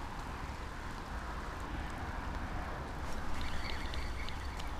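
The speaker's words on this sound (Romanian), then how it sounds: "Și plouă, plouă, plouă peste lanseta mea." Rain pattering steadily on water and gear beside a fishing rod during cold-weather chub fishing at about 1°C, a constant broadband hiss throughout with a faint higher chirping near the end.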